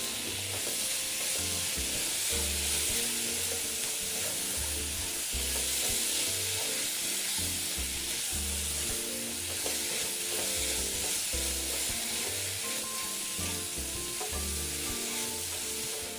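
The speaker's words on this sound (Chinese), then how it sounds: "接着再将煸炒过的马铃薯倒入，咖喱叶2支，添加香味。" Previously fried potatoes and curry leaves stir-frying together, a loud continuous dense sizzle with rhythmic stirring and tossing noises throughout.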